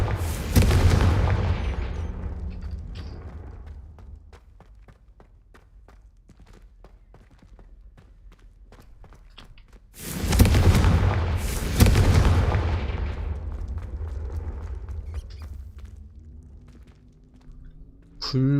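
Confringo fire spell blasts in a Hogwarts video game: a booming burst at the start, then two more heavy blasts back to back around the middle, loud and close, with rumbling decay between, and a voice speaking briefly.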